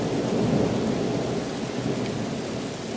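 Heavy rain pours down with a deep, continuous rumble of thunder rolling underneath, loud and sustained throughout with no voices.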